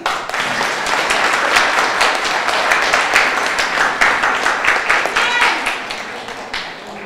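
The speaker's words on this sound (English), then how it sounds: "clap your hands" A crowd claps hands at a Martin Luther King Jr. Day celebration held by a Cape Verdean association, loud and dense for several seconds before thinning out near the end.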